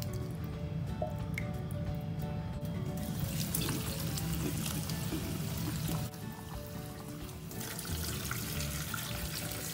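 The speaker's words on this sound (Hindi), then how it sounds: "और अभी मैं इसमें मिलाऊंगी थोड़ा ठंडा पानी।" Cold water poured into curdled milk while making paneer from milk powder, a running trickle and splashing of liquid with wet squishing and drips, moderately close and continuous, quieter toward the end.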